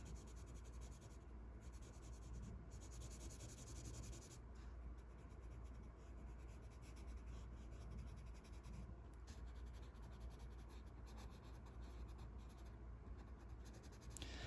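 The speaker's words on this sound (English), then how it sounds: "Typically when I'm shading, I switch over to the side edge of the" The side edge of a graphite pencil shades across paper, giving a faint, steady, close-up scratching that continues without pause and with no voices.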